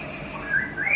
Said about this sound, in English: And he whistled right on cue.